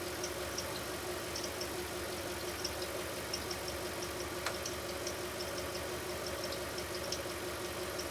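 An Audi S6 V8 engine idles steadily with a low, even rumble and faint light ticking, with no voices.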